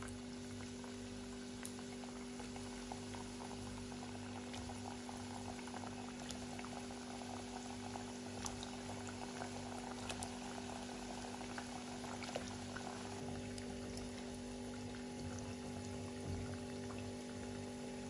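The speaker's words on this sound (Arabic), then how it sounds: "حط قسم تاني بالزيت." Pieces of dough frying in hot oil for Zainab's fingers sweets, a dense continuous bubbling sizzle held steady and close throughout with no talking.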